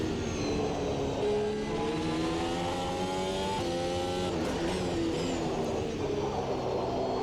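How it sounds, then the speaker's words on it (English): Formula Ultimate Generation 2 race car in Automobilista 2, its engine droning loudly and shifting pitch through the run, with brief tire noise as the left front wheel locks under braking. "Left front starting to lock up there a little."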